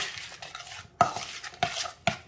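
Chopped jalapeno is stirred into homemade salsa in a bowl, with a few sharp clinks and scrapes of a utensil against the bowl over soft stirring, close up and without talk.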